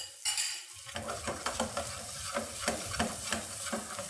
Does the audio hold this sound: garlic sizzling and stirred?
yes